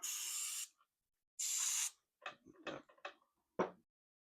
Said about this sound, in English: Now if I get some spray back in there.